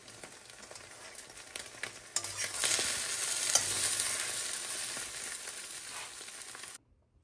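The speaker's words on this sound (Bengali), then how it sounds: "এবার আমি সেকেন্ড অমলেটটা করছি।" An omelette sizzles and fries steadily in a pan, the crackle swelling louder midway and holding at a constant hiss before cutting off abruptly; no voices.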